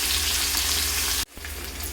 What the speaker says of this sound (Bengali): মাছের মাথা ভাজতে ভাজতে